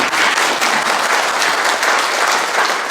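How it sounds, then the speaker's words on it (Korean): An audience at a civic address claps together in a loud, continuous burst of applause, dense and unbroken across the whole moment. "동의하시면 박수를 한번 보내주세요"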